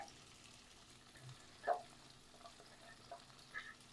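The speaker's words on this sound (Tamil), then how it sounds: "பீன்ஸு பச்சை பட்டாணி எல்லாத்தையும் நல்லா வணக்கி விட்டுக்கலாங்க" Carrot, capsicum, beans and green peas with sliced egg sautéed in a pan for tomato sauce fried rice give a faint, steady sizzle, broken by one sharp utensil clank and a couple of lighter taps, with nobody talking.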